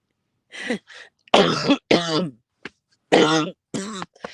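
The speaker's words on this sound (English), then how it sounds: "nobody wants to hear an old lady coughing up a lung" A series of harsh, wet coughs and throat-clearing bursts from an old woman, close up, several in a row with brief gaps between them.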